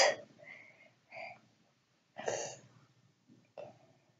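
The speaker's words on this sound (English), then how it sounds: "I'm gonna blow my nose after this." A few short, separate bursts of nasal blowing and snorting with quiet gaps between them, close and fairly soft.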